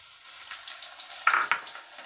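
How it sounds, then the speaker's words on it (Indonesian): Tilapia fish sizzles steadily in a frying pan, with a couple of sharper pops and scrapes standing out partway through, heard up close with no talking. "Ya sudah, saya goreng aja."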